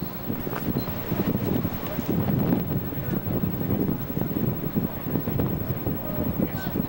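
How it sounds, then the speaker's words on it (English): Gusty gale-force wind of 35 to 40 miles an hour buffets the microphone at an outdoor high school baseball game, a rough, uneven rumble that pulses with each gust while a voice talks over it. "Blowing a gale, 35, 40 miles an hour"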